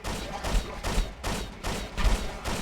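Zombie policemen firing in the Hunter: The Reckoning video game, loud rapid bursts of gunfire repeating in pulses across the whole stretch, close and dominant with no talk over it.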